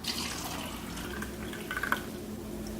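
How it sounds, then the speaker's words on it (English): Regular tap water runs over fruits and vegetables being washed in a sink, a steady faint stream with a few splashes and drips. "we're going to show you what comes off your produce, your fruits, your vegetables when you wash them off with regular tap water"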